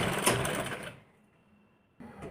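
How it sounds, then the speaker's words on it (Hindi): A sewing machine stitches piping on a blouse, running loud and steady for about a second, then stopping into near silence before a short burst of stitching starts again. "नीचे वाले पार्ट को ऐसे ही लूज करने देंगे और पूरे पे सिलाई मारेंगे।"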